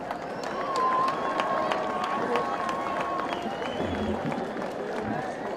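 A crowd applauds at the Connellsville Area School District 2024 graduation ceremony, steady dense clapping from a large audience in a big hall, with voices murmuring underneath.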